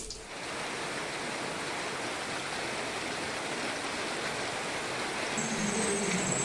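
Heavy rain falls on floodwater covering the ground behind a house, a dense steady hiss that holds evenly from start to finish with no talking.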